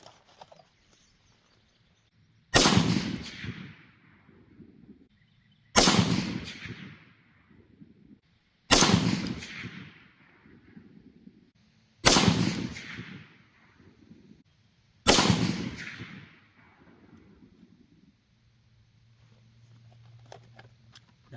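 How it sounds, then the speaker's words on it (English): An Armalite AR-10 rifle fires five AAC 175 grain OTM .308 Winchester hollow-point rounds outdoors, each a loud sharp crack with a decaying echo, spaced about three seconds apart. "Next I'll be shooting a 175 grain OTM round by AAC."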